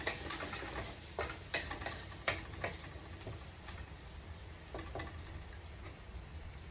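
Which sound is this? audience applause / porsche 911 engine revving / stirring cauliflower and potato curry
stirring cauliflower and potato curry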